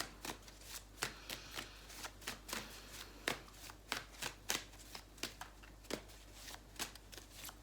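Playing cards being shuffled in short repeated riffles, close and fairly quiet, with a steady low hum underneath and no talking.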